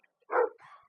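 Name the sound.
dog barking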